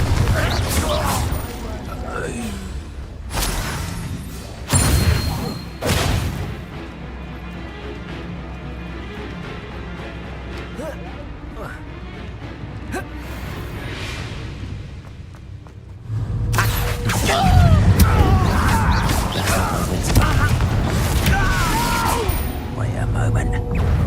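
Confringo fire-blast spell bursts in the Hogwarts Legacy video game, several sharp booming impacts and thuds in quick succession amid game music and effects, loud and close, with a voice casting spells around them.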